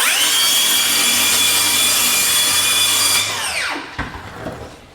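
A Milwaukee M18 2834 cordless circular saw screams through wood in one sustained cut, its pitch dropping as the blade spins down and the cut piece drops with a light thud.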